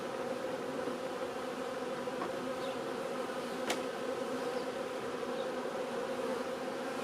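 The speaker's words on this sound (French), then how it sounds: "Oh, il y a quand même des abeilles." A steady, continuous hum of many bees buzzing close by at a test hive taken out after 61 days of cellar wintering, with a few brief louder passes as individual insects fly near.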